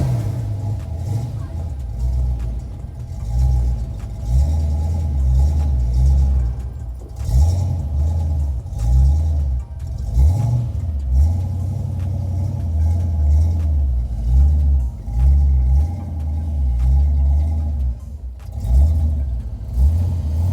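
A Ford Mustang Foxbody car engine rumbles steadily at low pitch, with a few revs swelling and settling throughout, fairly close and loud.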